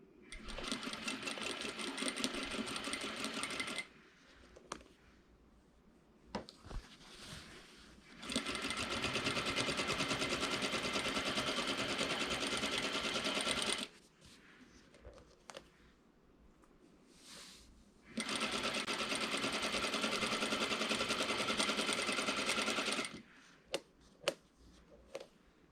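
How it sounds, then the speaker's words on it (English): A sewing machine stitches the seams of fabric wine bags, running in three long steady bursts with quiet pauses between them, plus a few short taps and clicks near the end. "So I'm going to take these to the sewing machine and start to sew them up."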